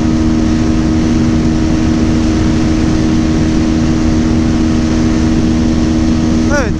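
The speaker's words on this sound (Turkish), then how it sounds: "6. vites tapa gaz gidiyorum. 9500 devirde devir kesiye giriyor." A CLX 700 Sport motorcycle engine runs at full throttle in sixth gear near its 9500 rpm limiter, a loud, steady high-revving drone with constant wind rush.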